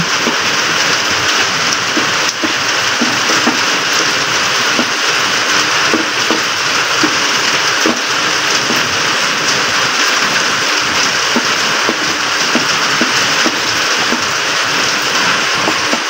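Steady rain falling outdoors on a field where people are planting, a dense, continuous hiss of drops that stays loud and even throughout, with no voices.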